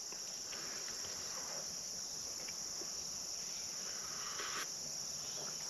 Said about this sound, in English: you can hear the bugs and the birds in the background